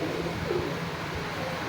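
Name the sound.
pigeons cooing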